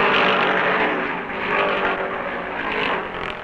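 NASCAR stock cars at the 1970 Southern 500, a dense, loud engine roar with a broad rushing hiss that swells and eases slightly, continuous throughout with no talk.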